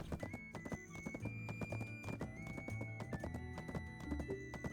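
Horse hooves clip-clop steadily with a brief whinny in a video game, game sounds and music layered busily throughout, moderately loud with no talking.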